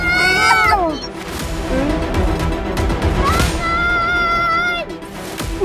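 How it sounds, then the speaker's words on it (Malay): A cat meowing in the Upin & Ipin cartoon, giving several loud, drawn-out, wavering meows and yowls close up, mixed with crashes and other cartoon sound effects, with no speech. "Kucing!"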